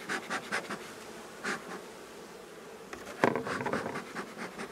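Honeybees of a colony at a beehive during a hive visit, a close buzzing drone with individual bees swelling past the microphone in short loud passes, one longer burst near the end.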